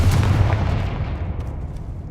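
A Confringo fire spell in Hogwarts Legacy detonates as a loud, close booming blast that rolls and fades over about two seconds, with no talking.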